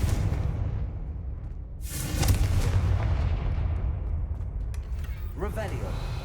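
A Confringo fire spell in the Hogwarts Legacy video game bursts in a deep, rumbling blast with a whooshing swell that fades over several seconds, ending in a brief spoken shout.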